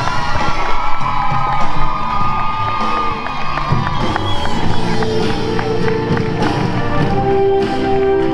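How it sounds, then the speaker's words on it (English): Crowd at a women's road cycling race in France cheering and clapping loudly and steadily, with scattered whoops and shouts in a dense, continuous roar. "applaudissements pour Anna Van der Breggen."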